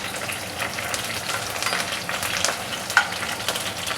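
Two ingredients sizzle and fry in a pan before chicken goes in, a continuous hiss of hot oil with a sharp pop or stir clink near the end and no talking.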